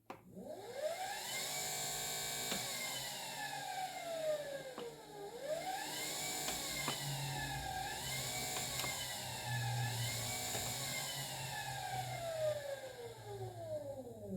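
An electric car motor in drive mode whirs steadily, its tone sweeping upward in repeated rising arcs as it accelerates, dipping and climbing again several times, loud and close with no talking.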